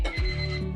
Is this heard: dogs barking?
no